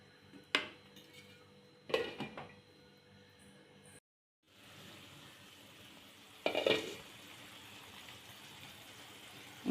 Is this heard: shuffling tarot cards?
no